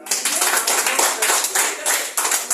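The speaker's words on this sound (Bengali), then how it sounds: "আমরা একদম মন খুলে আমাদের একটা হাত তালি দিয়ে" An audience gives a round of hand clapping, dense and continuous with small surges, filling the whole stretch at close range.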